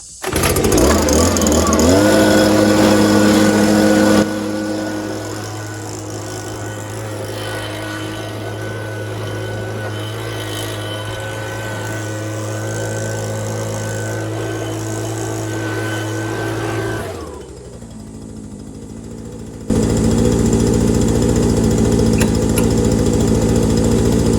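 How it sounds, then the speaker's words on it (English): A Mahindra 1626 tractor engine idles steadily with a low, even drone, briefly dropping in level partway through before returning louder, with no talking. "I pull up here and let it idle a couple minutes."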